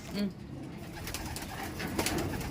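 A racing pigeon coos softly a few times, low rounded calls over a faint background hum.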